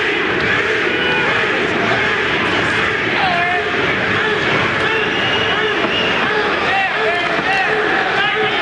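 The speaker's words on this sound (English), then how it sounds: "Crowd support for Butterbean, as you heard." Heavyweight boxing crowd in an arena cheering for Eric "Butterbean" Esch against Pat Jackson; a dense, steady roar of shouting and cheering voices with a ringside commentator talking over it.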